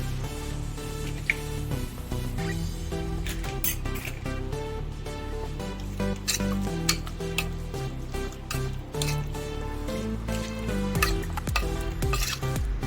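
Chicken satay mixture being stirred with an added egg, a busy wet squishing and scraping in a bowl with utensil clatter, continuous and fairly loud over about thirteen seconds with no talking.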